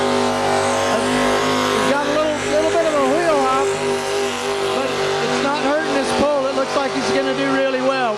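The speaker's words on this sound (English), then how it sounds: "you'll listen to the RPM of this truck. He really wraps this thing up." Old Red Eye, a pulling truck at a tractor pull, roars at sustained high RPM, a loud wavering engine wail over the run with the pitch repeatedly climbing and dipping, and a voice commenting over it.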